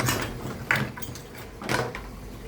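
A washing machine with worn-out bearings starting a rinse cycle, giving a mechanical grinding and clattering with a low hum underneath and two louder rattling surges, fairly close.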